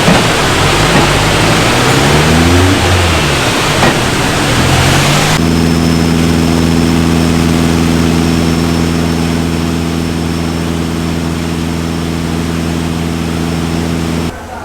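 Loud engine of a 400hp Toyota 4A-GE car on a dyno revs up and down with rising and falling pitch, then settles into a steady, droning idle that continues to the end.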